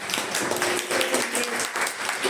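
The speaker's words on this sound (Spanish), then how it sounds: "un fuerte aplauso para todos ustedes" Applause from a seminar audience of students after a pharmacology class announcement, a dense steady patter of many hands clapping at moderate volume with no pauses.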